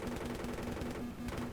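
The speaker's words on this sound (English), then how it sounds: "He's cleaning up with the cannon, and I'm also getting a few kills with the pilot rockets." The Mi-28 attack helicopter's cannon fires steady rapid bursts in the Battlefield 3 video game, a loud continuous run of evenly spaced shots.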